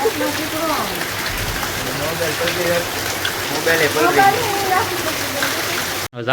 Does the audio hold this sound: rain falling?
yes